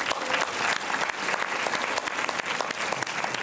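Audience applause fills the hall at the opening of a film festival in Montreuil, a dense, continuous clapping from many hands, close and steady for a few seconds.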